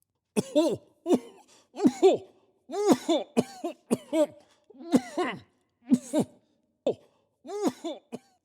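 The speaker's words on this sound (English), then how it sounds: "How long have you had that cough?" A person coughs repeatedly in harsh, separate bursts, some rasping and throaty, spread across the clip with short pauses between them.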